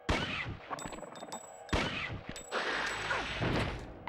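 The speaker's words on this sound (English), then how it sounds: "I need to use the last slag bullets" Slag bullets fire in the video game Dino Crisis, two heavy bursts of gunshots with sharp attacks and ringing game tones, separated by a brief pause, loud and close with no speech.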